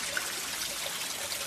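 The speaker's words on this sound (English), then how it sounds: "Natural spring water running away on." Natural spring water runs steadily beside a riverside at Portland's Spring Bank Sweetwater in Jamaica, a soft, continuous trickling stream held at an even level throughout with no voices.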